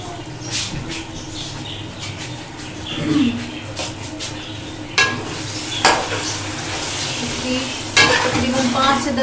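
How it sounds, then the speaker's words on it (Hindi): Makhni mathi dal frying in chili spice masala in a pot, a steady sizzle with repeated scraping stirs and occasional clinks of a utensil against the pan, close by. "तकरीबन 5 से 10 मिनट तक हम इसकी भुनाई करेंगे मिर्ची की मसाले में।"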